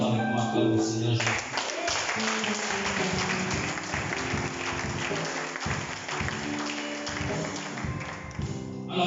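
A church congregation at a French-language seminar applauds and claps, with rhythmic claps under voices and a steady crowd rumble throughout.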